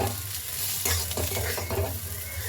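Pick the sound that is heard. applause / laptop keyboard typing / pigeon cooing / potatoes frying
potatoes frying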